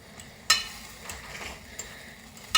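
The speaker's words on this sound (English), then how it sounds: "You're just going to take this and you're going to mix it around." A spoon stirring low carb pasta with blistered tomatoes and browned cheese in a pan, heard as soft, close scraping and squelching with a couple of sharp metal clicks against the pan.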